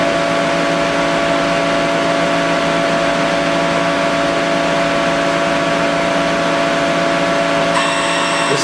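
Citizen A32VII CNC Swiss lathe spinning at 1,000 RPM, a steady close-up hum with constant tonal whine and broadband machine hiss, unchanging throughout, with a brief higher chirp near the end.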